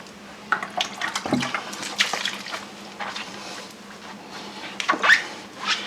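Water sprays and splashes while rinsing soap suds off a caravan wheel, coming in uneven bursts and hissing spatters at close range, with no talking.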